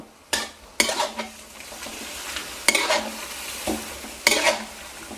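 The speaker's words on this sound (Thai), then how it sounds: "ผัดให้เข้ากัน" Garlic pork is stir-fried with oyster sauce, sugar and a little sweet dark soy, and a spatula scrapes the wok in four or five sharp strokes over a steady low sizzle, with no voices.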